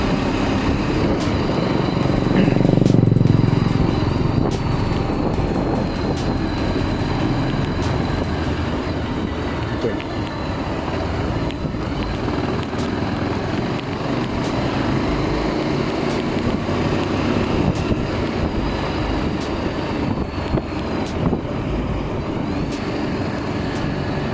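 A rare motorcycle climbs a slightly uphill alternative village road between Pucung and Buntu, its engine a continuous droning rumble mixed with wind noise that swells briefly early on and then holds steady.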